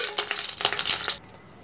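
Whole garam masala spices hitting hot oil and ghee give a bright, crackling sizzle with a few sharp pops for about a second, then drop to a quieter, steady hiss.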